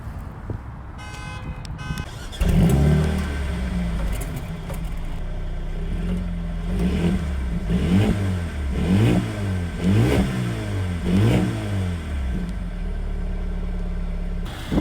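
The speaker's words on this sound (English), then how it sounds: "Listen to the sound from the engine." A 2020 Mercedes-AMG CLA 35 4Matic with the AMG night package fires up with a loud bark, settles into a steady idle, then gets a run of sharp, evenly spaced revs before dropping back to idle, close and without talk.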